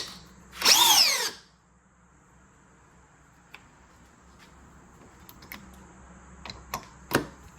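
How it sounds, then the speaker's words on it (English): A DeWalt drill on speed 2 drives a screw in one loud, close, roughly one-second burst. Near silence follows, broken by scattered light clicks and taps. "Now I got the Dewalt. Battery full. Now I'm gonna drive it in. Same speed, speed 2."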